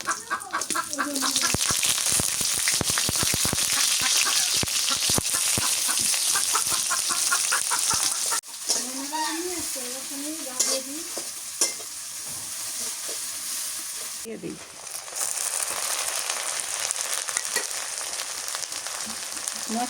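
Chopped onion with garam masala and cloves frying in hot oil in a pan, a loud, continuous sizzle with stirring scrapes, a brief break partway, and a rooster clucking in the background.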